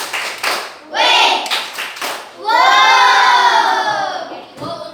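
A classroom of children performs a 'tepuk wow' routine: rhythmic bursts of clapping give way to loud, rising shouts and cheers from the whole group, close and lively, with a teacher's voice mixed in.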